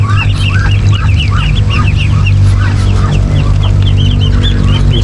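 White ducks on a backyard farm quack and chatter constantly in a busy flock, close and loud over a steady low background hum, with no talking.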